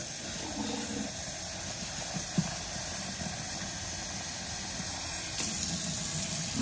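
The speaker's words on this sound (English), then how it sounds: "So put the hot water in there." Hot water pours steadily into a container for puppy mush, a constant faint hissing splash at close range with a small knock partway through and a brief louder surge near the end.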